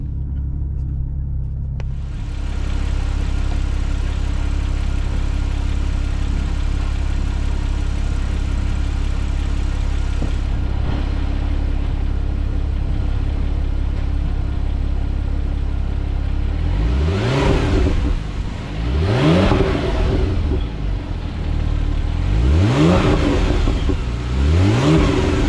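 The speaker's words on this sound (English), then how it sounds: "Driving video, just getting the car warmed up a little bit here." A 2010 Porsche 911 Turbo warming up, a steady deep idle rumble for most of the stretch, then several sharp revs climbing and falling in quick succession, close and loud with no talk.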